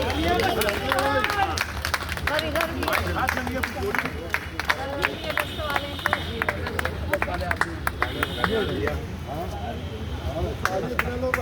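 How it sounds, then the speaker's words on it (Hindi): A crowd at a flag-hoisting ceremony in a town market square claps in steady, dense applause that runs throughout, mixed with chatter and voices of people talking nearby. "तालियां बजती रहे भाई।"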